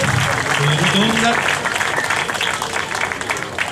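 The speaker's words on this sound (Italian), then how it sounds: "io direi di fare un grande applauso per Daniela" An audience at a 2012 award ceremony breaks into applause, loud and dense at first and then thinning out, with a few voices talking over the clapping.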